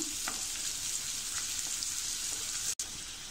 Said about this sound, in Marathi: बघा, आता आपला हा कांदा थोडा अजून आपण लाल करून घेऊया.